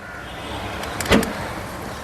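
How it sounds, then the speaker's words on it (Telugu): The boot of a 2016 Ford Figo Titanium is released with the key, giving a single short mechanical latch click and thunk close by. A quiet background hum surrounds it and no one speaks. "డిక్కీ ఓపెన్ చేయాలంటే"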